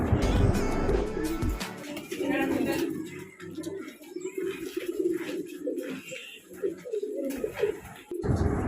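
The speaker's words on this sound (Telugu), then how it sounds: "నెక్స్ట్ ఇవన్నీ పావురాలు." Several pigeons coo in soft, rolling, repeated calls at an animal enclosure near the giant Timmamma Marrimanu banyan tree in Anantapur, with a voice speaking briefly and faint background noise.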